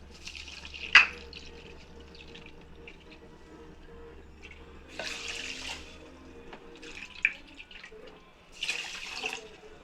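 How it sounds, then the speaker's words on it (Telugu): Four cupfuls of water splash into a pot in separate pours with short pauses between, against a quiet low hum. "అలాగే అదే కప్పుతో నాలుగు కప్పులు వాటర్ వేసుకుంటున్నాను"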